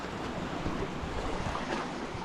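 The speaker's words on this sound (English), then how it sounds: "So this little gem is Mogren Beach." Waves wash against Mogren Beach in Budva, Montenegro, on the Adriatic, making a continuous broadband surf hiss with gentle swells, mixed with light wind across the microphone and no voices.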